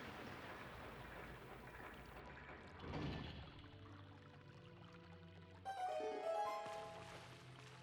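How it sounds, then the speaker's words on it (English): In Zelda: Twilight Princess HD, water pours and rushes as the level rises after a shade is lowered, a steady wash that swells briefly, then gives way to a chiming musical cue and lingering game ambience. "Lower that shade. And that's gonna raise the water level."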